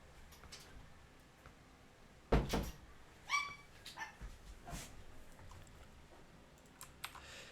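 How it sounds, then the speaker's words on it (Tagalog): Dogs inside a house bark in a few scattered, muffled bursts, one louder yelp standing out, against a quiet room with light keyboard tapping. "ang ingay ng mga aso"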